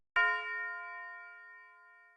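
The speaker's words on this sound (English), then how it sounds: "I went ahead and added this tubular bell to play for every 4 bars" A tubular bell strikes once as part of a dark beat and rings out with a clear, pure tone that slowly fades. The strike is soft and stands alone.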